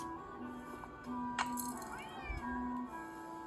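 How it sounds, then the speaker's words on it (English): A cat meows a few times in the Nancy Drew game Secret of the Old Clock, distinct plaintive calls over a quiet ambient background with faint rattling. "Otherwise, he'll just keep meowing."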